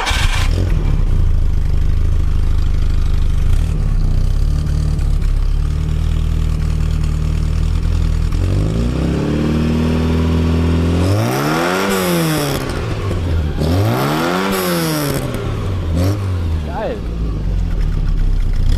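A classic VW Scirocco engine idles with a steady low rumble, then revs up sharply twice in rising and falling sweeps before settling back to idle.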